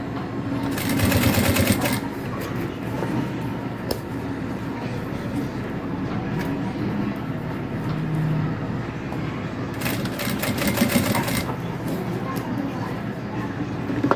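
Sewing machine stitching bias binding onto a crossbody bag, a steady motor hum running throughout with two louder bursts of faster stitching near the start and toward the end, while a person talks over it.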